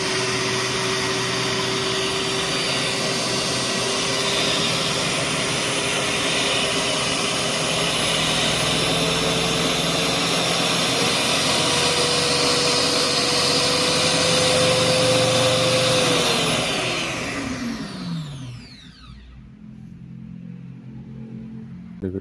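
A vacuum cleaner motor whines loudly in turbo mode, its steady high drone holding and gradually rising in pitch, then spinning down and fading out near the end, with no talk.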